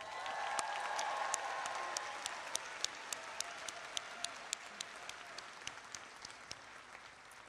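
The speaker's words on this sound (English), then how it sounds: "So please give another special round of applause to our USC salutatorians, Andrew Binder and Shreya Daniel." A commencement audience at the USC Dornsife 2022 ceremony applauds the salutatorians, a broad wash of clapping that swells early and then thins, leaving sharper individual claps standing out near the end.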